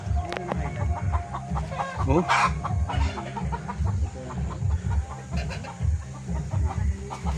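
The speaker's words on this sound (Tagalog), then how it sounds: "Uy, may manok." A chicken clucks repeatedly near a hiking trail, short rhythmic calls over steady background noise, with a brief spoken exclamation and a sharp rustle partway through.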